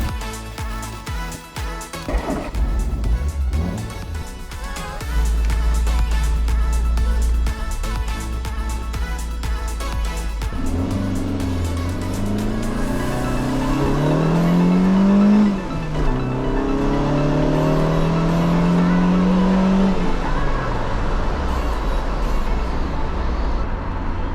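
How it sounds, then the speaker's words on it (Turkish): A carbureted Peugeot 205 on the road accelerates through gears, its engine note climbing and dropping between shifts, steady and fairly loud from inside or near the car with road noise underneath. "Karbüratörün performansını test etmek için mesai çıkışı yollara düşüyoruz"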